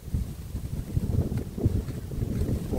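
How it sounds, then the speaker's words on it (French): Strong wind buffets the microphone on a windy hike beside a pond, a continuous low rumbling roar with gusty swells throughout and no voices. "je vais arrêter là parce qu'il y a du vent."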